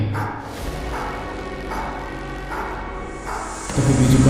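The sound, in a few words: dogs barking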